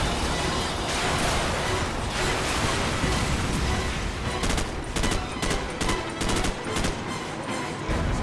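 Dense in-game gunfire from the video game Call of Duty 4: Modern Warfare, with sustained rattling bursts and several sharp, close shots in quick succession near the end, loud and without talk.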